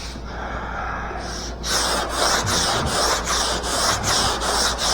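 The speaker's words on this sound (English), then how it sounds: "I'm going to sand with a little bit more aggressive sandpaper than I normally would use to start with" Coarse sandpaper worked by hand over a car body in a garage, a quieter rub giving way to steady, loud back-and-forth scraping strokes in an even rhythm, close up with no talking.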